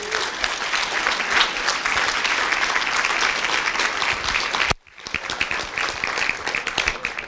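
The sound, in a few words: audience applause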